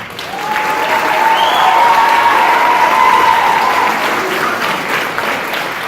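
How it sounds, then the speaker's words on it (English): A middle school concert audience and band members applaud a student band member who plays from a wheelchair, a loud, full round of clapping that swells and then eases slightly, with a whistle or cheer riding on top. "we give him a round of applause."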